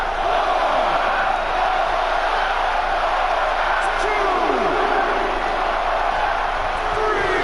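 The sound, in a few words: arena crowd cheering in a WWE SmackDown vs. Raw video game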